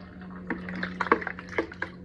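Water is poured by hand while refilling a household diffuser, a close series of small splashes and drips with soft liquid sounds over a steady low hum.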